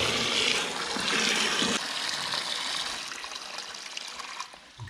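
Water pours steadily into a small construction bucket with a loud, continuous splashing rush that gradually softens as it fills, close by and mostly alone.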